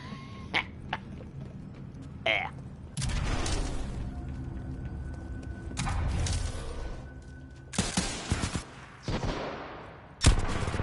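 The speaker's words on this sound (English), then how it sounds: "Oh, it's a grenade launcher. So a grenade launcher now." Grenade launcher fire in the video game Titanfall 2, with several short sharp bursts and booming hits spaced across a quiet, moderately distant game soundscape.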